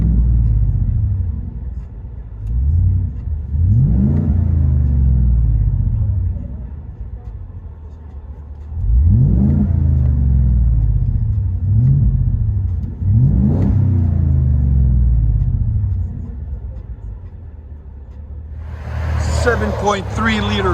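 A 2022 Ford F-350 with the 7.3-liter gas V8 and Borla XR-1 exhaust rumbles at idle from inside the cab, then climbs through four separate deep revs spaced several seconds apart, each falling back to a low drone.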